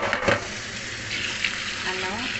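Cooked lentils being sautéed in a pan give a steady soft sizzle with a few clattering stirs, close and moderate in level, with brief faint voice sounds near the end.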